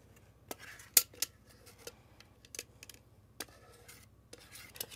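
A utensil scrapes soft-serve Cadbury Cream Egg ice cream into a bowl in a home kitchen, making soft, irregular scraping and clinking taps over a faint low hum, with a sharper metallic clink near the start.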